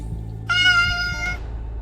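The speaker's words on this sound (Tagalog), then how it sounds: "marinig ang mahinang huni ng pusa na biglang lumapit sa kanya" A cat gives a single soft meow, close and clear over a low room hum.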